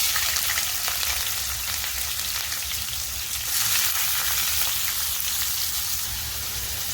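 Sliced onions frying in a pan for a Mughlai egg curry: a continuous close hiss and sizzle, steady in loudness, with no voices.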